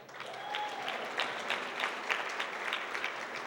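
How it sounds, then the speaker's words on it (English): Audience applause at an awards ceremony, a steady, moderately loud patter of many hands clapping with a brief whistle near the start, continuing throughout. "She got the big cheer from the family in the back."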